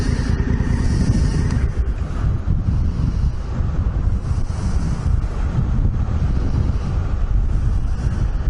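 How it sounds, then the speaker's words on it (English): Strong coastal wind buffets the microphone in a steady, heavy low roar, with the wash of surf blended underneath throughout and no voices. "You can see how windy it is."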